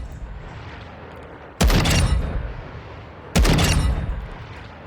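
Two loud, sharp shots from a Walther WA2000 semi-automatic rifle in Call of Duty Modern Warfare II, about two seconds apart, each with a booming echoing tail over low background hum.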